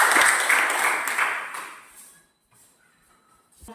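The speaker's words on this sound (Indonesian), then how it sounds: "Berikan aplaus kepada kelompok 3." A classroom group of students claps for about two seconds after finishing a discussion presentation, then the applause fades into near silence with a faint sound at the end.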